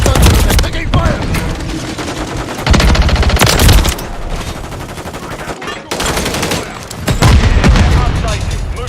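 Sustained automatic gunfire and booming blasts in a military shooter game during a hardpoint match, loud bursts in several waves with brief lulls, over game voice callouts.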